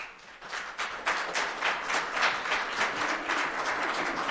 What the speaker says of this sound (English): there's no applauding after people speak out of a courtesy